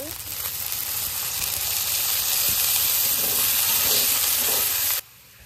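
A little water is added to a hot pan of frying spices, giving steady loud sizzling and hissing that holds for about five seconds before cutting off abruptly.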